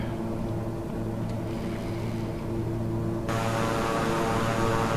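Twin turboprop engines of a Beechcraft 350i King Air in Microsoft Flight Simulator drone steadily and loudly with a constant tonal hum; partway through, a brighter hiss swells in as throttle changes, and no one speaks.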